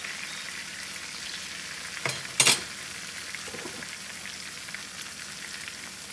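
Tomatoes dropped into a pan of softened peppers frying for a breakfast egg dish, giving a brief burst of loud sizzling and spattering around the middle, then settling back to a steady low frying hiss with no talk.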